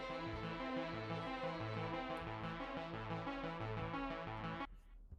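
A TAL-U-NO-LX software synth plays a bass line with the arpeggiator off, giving sustained, steady held notes that change pitch in a repeating pattern. The sound is quiet and continuous, then stops abruptly near the end.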